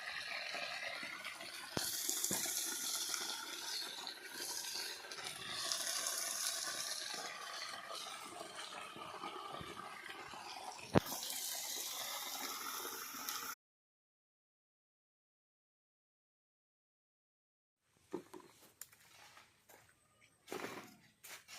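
Water from a hose driven by an Aqua Tech pump sprays steadily at pressure outdoors at a house, a continuous loud hiss that cuts off abruptly, followed by a few seconds of silence and then quieter splashing and dripping.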